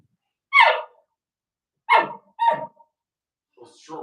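A hunter imitates an elk bark with a call during an archery elk hunt: three sharp, loud, separate barks about a second apart, then a fainter drawn-out fourth.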